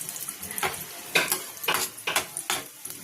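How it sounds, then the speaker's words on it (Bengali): Lentil dumplings (bori) frying in oil: quiet, uneven bursts of hissing sizzle and bubbling come and go, with no one speaking. "আগে আমি ফার্স্টে বড়িটা ভেজে নেব"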